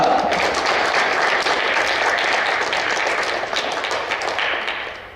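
A church congregation gives a sustained round of applause during a Sunday service, dense steady clapping filling the room and fading slightly toward the end.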